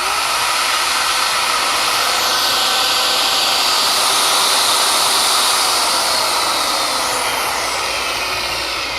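Two electric motor loads run together off an EG4 12V 400Ah server rack battery, making a loud, constant whirring rush that holds without a break.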